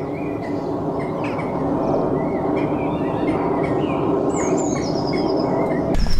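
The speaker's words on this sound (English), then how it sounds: "There's a couple of reed warblers singing one either side of the pond." Reed warblers singing on either side of a small pond at Titchwell in Norfolk, giving scratchy, chattering phrases over a constant low rumble, with thinner higher notes and a sudden noise at the very end.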